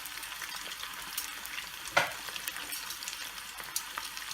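Spicy fried chicken breast pieces frying in oil on a low flame, a steady quiet sizzle with scattered pops and one sharper crackle, nearby and without talk.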